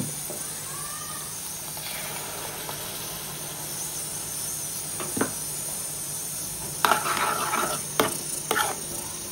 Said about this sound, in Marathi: आता आपण याच्यामध्ये टोमॅटोची प्युरी टाकूया